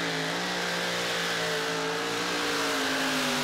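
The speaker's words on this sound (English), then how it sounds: "Green flag, sounding so powerful. Lots of wheel speed," A supercharged V8 pulling tractor roars at high revs, its steady droning note slowly climbing under load and wheel spin, loud, close and continuous.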